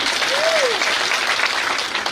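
A congregation at a Sunday service in Ambaru Pentecost Church, Igembe North, claps loudly and continuously, a dense wash of hands with a brief rising vocal whoop near the start.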